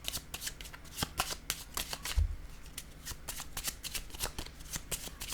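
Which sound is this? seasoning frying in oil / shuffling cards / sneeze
shuffling cards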